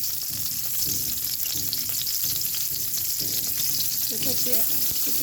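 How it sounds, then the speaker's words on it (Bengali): An onion frying in hot white cooking oil, a loud, constant hiss of sizzling with soft stirring knocks underneath and no talking. "এক পরিমাণ সাদা তেল দিয়ে দিলাম এখন হচ্ছে একটা পেঁয়াজ দিয়ে দিলাম"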